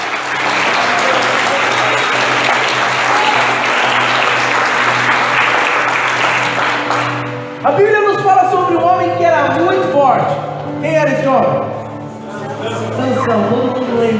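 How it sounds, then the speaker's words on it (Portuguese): A church congregation applauds loudly and steadily for about seven seconds over sustained low musical tones, then the clapping stops and a man begins preaching. "Então eu te convido a aplaudir a Ele."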